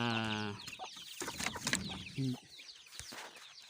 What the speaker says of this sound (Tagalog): Oh, may mga sisiw na.